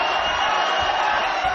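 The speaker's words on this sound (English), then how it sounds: "Cotto, the chants of the crowd go up once more." At a Miguel Cotto boxing bout, the arena crowd gives off a loud, dense, steady roar of voices that stays constant without clear breaks.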